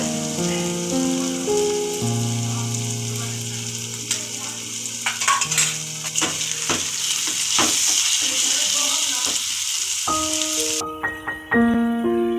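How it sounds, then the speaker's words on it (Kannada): Green mango pieces fry in hot oil for mango rice while being stirred, giving a steady close sizzle broken by scraping stir strokes and clinks, with no talk. "ಮಾವಿನಕಾಯಿ ಚೆನ್ನಾಗಿ ಫ್ರೈ ಆಗಿದೆ"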